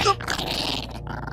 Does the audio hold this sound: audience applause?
no